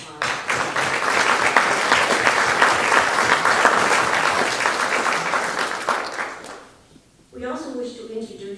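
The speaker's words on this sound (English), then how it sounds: "Might we ask that we could all give and join in giving them a round of applause." Audience at an Old Stone Barracks event giving a round of applause, full crowd clapping for about six seconds before fading out, then a voice begins speaking.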